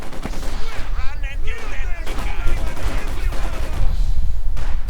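Maxim machine gun firing in the World War II strategy game Company of Heroes 2, a dense barrage of loud gunfire and battle noise that runs without a break for the whole stretch.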